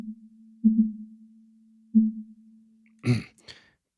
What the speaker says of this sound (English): we're getting this hum. It kind of sounds like a submarine sonar, and I really don't like that sound in my snare